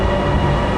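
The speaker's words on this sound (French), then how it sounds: "En fait aujourd'hui on prend le train" A metro-like commuter train in Bangkok gives off a loud, steady rumble of wheels and carriage noise, heard from inside or close by with no pauses.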